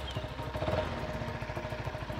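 The engine of a Keeway K300N motorcycle idles with an even, fast low putter and a faint mechanical clatter, fairly near and steady, with no speech.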